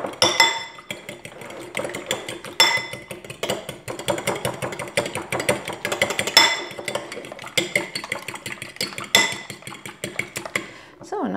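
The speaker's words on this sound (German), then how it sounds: "Dann verquirlt ihr das Ganze schnell." Scrambled egg mixture, which may include ham, cheese and herbs, is whisked briskly in a bowl, giving a fast, continuous clatter of metal against the dish with some sharper knocks.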